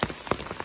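Steady rain falling on a hiking trail near a shelter with slippery rocks: a brief, close patter of drops with a few heavier splats, no voices.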